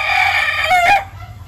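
Chickens on a farm crowing and clucking loudly and close by, a rooster's rising crow cutting through steady hen clucks over about a second and a half, with no talking.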